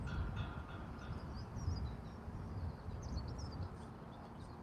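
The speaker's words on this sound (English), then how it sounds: "There goes the Class 390 on its way to London Euston" A Class 390 train passes on its way to London Euston, a steady low rumble of wheels and carriages that holds at an even level throughout, with faint birdsong above it.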